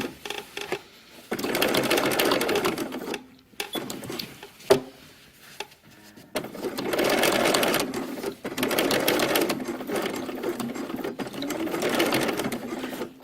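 A sewing machine stitches a 3/8-inch seam at the collar of a tropical shirt, running in two close bursts of rapid whirring separated by a short pause with light clicks.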